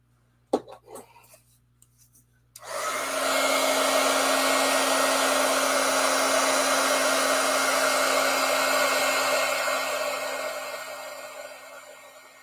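A heat tool melting ultra thick embossing enamel starts up after a few soft clicks and handling sounds, then blows with a loud, steady, close whir like a hair dryer that eases off slightly toward the end.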